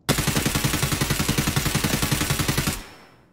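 SA-58 rifle fired full auto in the video game Escape from Tarkov: a loud, rapid, evenly spaced string of about twenty-five shots lasting nearly three seconds, then a short fading echo.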